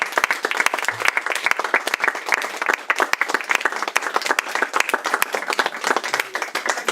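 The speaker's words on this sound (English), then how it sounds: "we should have one more round of applause for our" Loud, sustained applause from a theatre audience at a playhouse scratch night, many hands clapping rapidly and continuously close by.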